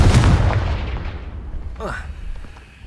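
Confringo fire spell blasting in the Hogwarts Legacy video game on PS5: a booming burst at the start that fades out, followed by a swooping, whooshing magical effect, with game ambience underneath.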